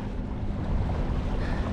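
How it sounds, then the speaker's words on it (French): A sailboat's genoa flutters in strong wind near the Douhet harbour, a steady broadband roar of wind and flapping cloth with water noise beneath, close and continuous with no voices. "Le Génois il flotte au vent"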